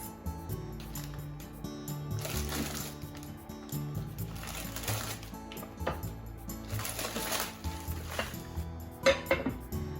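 Udon noodles added to a pot of nikomi udon, close clinks and knocks of utensils against the pot with soft rustling and scattered sharper taps, no voices.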